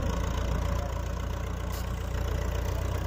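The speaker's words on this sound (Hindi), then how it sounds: "यूरो 55 चला हुआ है और देखिए दूसरे के हाई में चला हुआ है, सांस ही नहीं मिल रहा ट्रैक्टर को" A Euro 55 four-cylinder 55 hp tractor engine lugs under load in second gear, a steady low, laboring drone with a regular throb, RPM held down and running continuously close by.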